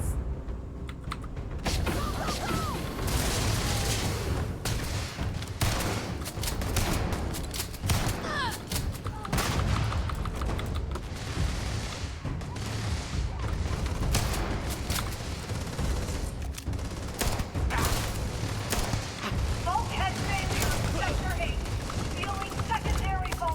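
Rapid gunfire crackles through a firefight in Starfield, dense bursts of shots and impacts continuing throughout with scattered game effects and voices talking over the action.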